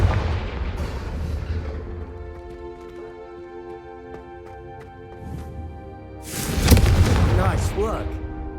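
A Confringo fire spell explodes in Hogwarts Legacy, a sudden loud burst and rumbling blast that swells late over a sustained orchestral music bed, with earlier muffled impacts.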